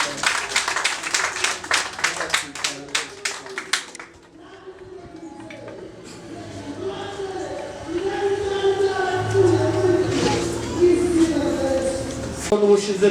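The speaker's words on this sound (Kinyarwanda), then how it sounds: "Umuryango wanjye wa Fidel ntamumpera amashyi menshi cyane." Guests at a traditional Rwandan wedding ceremony clap in a brisk burst of close applause that fades after a few seconds, followed by murmuring crowd and distant music.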